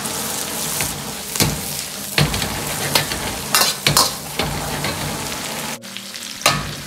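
Twice-cooked pork and garlic sprouts stir-fried in a wok, a steady close sizzle broken by repeated scraping, tossing strokes of the spatula and a brief lull near the end.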